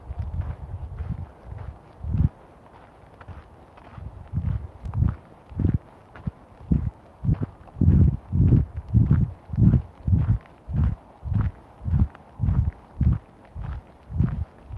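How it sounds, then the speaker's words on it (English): Footsteps splashing through a shallow stream, a steady series of close, rhythmic watery steps with brief pauses, loud and clear with no talking. "can you hear my footsteps when I'm walking in the stream?"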